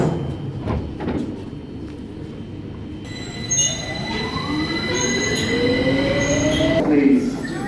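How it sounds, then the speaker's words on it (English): A London Underground train pulls away from the platform, first with rumbling and a door thud, then loud curving wheel squeals that rise in pitch as it accelerates, with faint background chatter. "This train is now ready to depart. Mind the closing doors."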